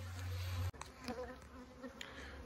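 Honey bees buzz steadily and close by while a hive is opened for a first inspection. Brief handling knocks and rustles sound over the humming.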